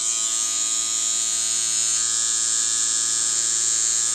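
A tattoo machine runs at a long stroke at 9 volts with an Emalla Eliot cartridge, giving a steady, loud, high-pitched buzzing whine that holds evenly throughout, close up and with no talking.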